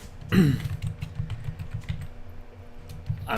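Fingers tap out a short run of quick, light keystrokes on a computer keyboard, fairly close, with a brief vocal grunt or throat sound at the start and again at the end.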